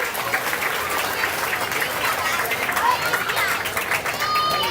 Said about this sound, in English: Now give that man a round of applause.